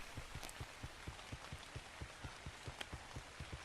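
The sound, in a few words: rain in video game Ark Survival Ascended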